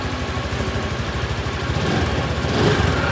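A motorcycle engine chugging at a steady idle, a low rhythmic putter that swells slightly louder toward the end.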